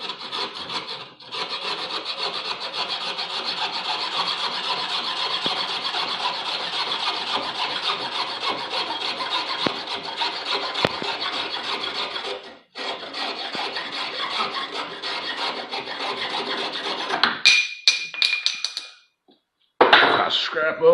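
Fiberglass tree stakes are sawn into pieces by hand with long, steady rasping strokes that pause briefly midway, and the cutting ends with a few clatters and knocks.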